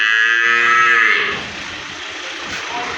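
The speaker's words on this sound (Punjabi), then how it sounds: "ਮੱਝਾਂ ਸਾਰੀਆਂ ਆਪਣੀਆਂ ਆ ਗਈਆਂ ਨੇ ਅੰਦਰ" Buffalo in a farm shed gives one long, loud, low moo up close that fades out, leaving quieter shed ambience behind.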